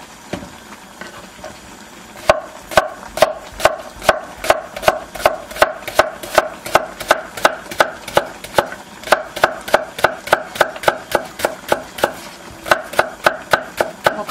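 A knife chopping green onion (daepa) on a board, a steady run of crisp, evenly spaced close taps that starts after a brief pause and continues without talk.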